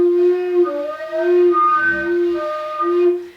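A low, held note on a low whistle with a finger partly lifted off the second-to-bottom hole sounds alone, its tone wavering and slightly unsteady, with faint warbles breaking through as it sustains.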